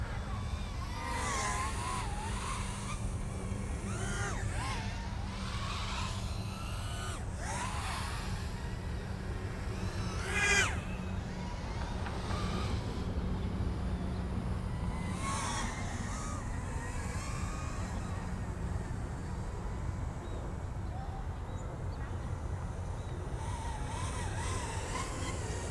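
An iFlight Strider X2 micro drone flies line of sight outdoors, its motors giving a continuous buzzing whine that swells and dips in pitch as it maneuvers, with occasional talk.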